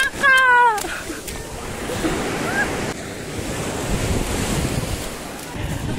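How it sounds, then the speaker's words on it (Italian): Sea waves wash steadily onto a beach on a holiday day, a broad continuous roar mixed with wind buffeting the microphone, with a brief high voice near the start. "Mare!"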